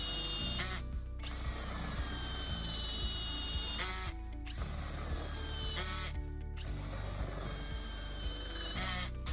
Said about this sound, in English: I'll get the drill up to full speed, and then I'll just lightly apply pressure